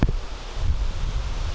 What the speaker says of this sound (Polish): ale porywy wiatru są niesamowite